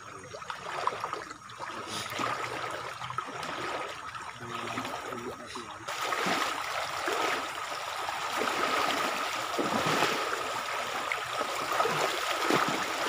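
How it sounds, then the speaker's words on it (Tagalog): Steady, fairly gentle rush of a river stream at Tibagan Falls on the Pasong Buhangin river, an even wash of water that grows slightly fuller partway through, with no talking. "Hindi malakas yung agos ng tubig dito."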